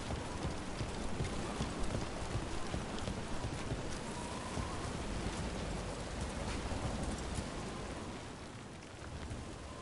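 Rain falls in the video game Dragon Age: The Veilguard, a steady, even hiss of downpour that continues throughout at moderate level and eases slightly near the end, with no speech.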